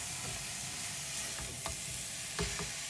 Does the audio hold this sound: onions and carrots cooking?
yes